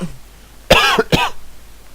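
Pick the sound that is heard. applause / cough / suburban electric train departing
cough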